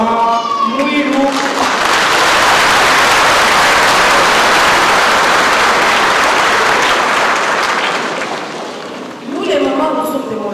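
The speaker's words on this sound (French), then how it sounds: "Mes sœurs, applaudissez-vous d'abord" Sustained loud applause from a crowd at a centenary celebration, swelling and holding for several seconds, with a French-speaking speaker's voice heard before and after the clapping.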